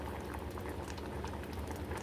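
Steady, dense bubbling of dinengdeng vegetable broth at a rolling boil in a pot, continuous and close throughout with no voices.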